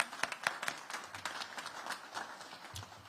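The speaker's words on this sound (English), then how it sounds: "Let's give him and his team another round of applause" Scattered, fairly faint audience clapping at an indoor back-to-school event, with a few sharp individual claps standing out over a thin spread of hands and some low background rumble.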